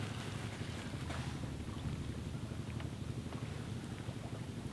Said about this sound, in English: the wind is kicking up fairly well